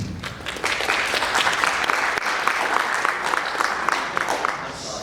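Audience at a state and house candidate debate breaking into steady applause, a dense clatter of many hands clapping together and holding fairly constant, with a voice faintly beneath.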